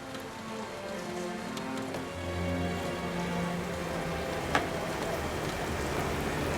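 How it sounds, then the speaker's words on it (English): Steady rain falls on outdoor surfaces at a garden build site for the Chelsea Flower Show, a dense continuous patter with a few sharper drops, no voices. "Go away, rain."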